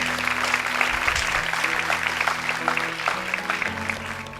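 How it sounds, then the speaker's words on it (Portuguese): Congregation applauding during a church service, a steady broad wash of clapping that holds at an even level throughout, with sustained musical tones underneath. "Dê um aplauso bem forte a Deus."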